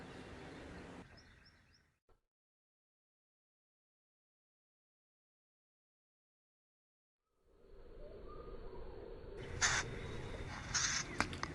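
Parent mockingbirds call in alarm near their nest in a yard, sharp repeated calls at the start and again after a long silent gap, fairly close.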